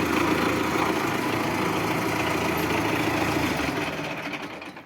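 A tractor with about 1600 engine hours and its gearbox running smoothly, a steady, even mechanical hum held close and constant before easing slightly toward the end, with no talking.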